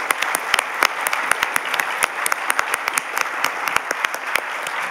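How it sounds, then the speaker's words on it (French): Warm audience applause for inspiring research honorees at the 2022 Summa awards ceremony, a dense, steady wash of clapping with sharp individual claps standing out throughout, loud and close, no talking over it. "Applaudissons chaleureusement toutes les personnalités inspirantes en recherche."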